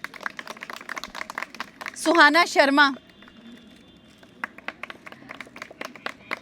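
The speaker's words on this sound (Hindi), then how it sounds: "तालियां बजाइए इनके लिए।" An audience of female students claps in light, scattered hand claps, which pause while someone briefly speaks and then resume afterward.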